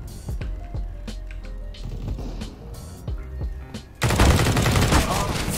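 Rifle fire from the SG in Counter-Strike: GO, a few sharp separate shots spread over the first seconds, then a denser, louder burst of gunfire and action noise in the final stretch.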